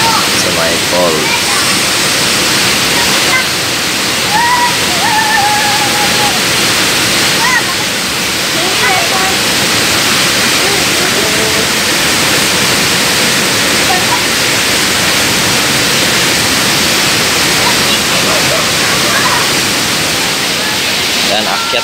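Likid Falls in Sta Praxedes, Cagayan roars in a loud, constant broadband rush of falling water close by, with voices talking faintly beneath the wash.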